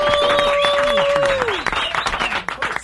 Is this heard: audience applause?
yes